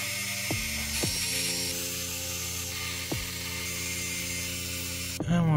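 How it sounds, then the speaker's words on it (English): A small precision electric screwdriver whirs in short spurts, removing the tiny black motherboard screws inside a Lenovo ThinkPad X1 Yoga laptop, each spin-down falling in pitch, over a steady faint background hum. "Now we can go ahead and remove the screws that are holding the motherboard."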